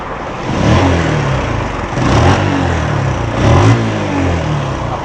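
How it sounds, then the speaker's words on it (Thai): A Yamaha X1R motorcycle engine, upgraded to R15 parts with a full cam kit and a stock exhaust, revs up and settles back several times, a fairly mellow, muffled exhaust note close by, with no talking. "ตอนนี้ก็ให้ฟังเสียงดูนะครับ เป็นท่อเดิมๆเงียบ ๆครับ"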